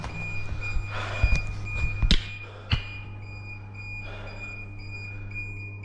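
A drain pump's float alarm signalling high water, a steady thin electronic tone running throughout under a low mains hum, with a few scattered clunks and knocks from nearby handling.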